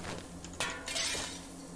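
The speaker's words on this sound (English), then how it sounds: "From the east, you hear glass breaking." Glass breaking in the video game Cataclysm: DDA, a couple of brief shattering crashes with clinking fragments over a low steady background.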